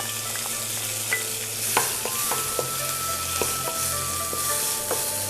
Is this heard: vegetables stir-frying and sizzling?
yes